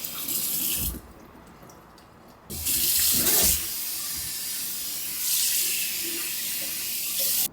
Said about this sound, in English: I'm gonna scrub my potato a little bit so that in case I do eat the skin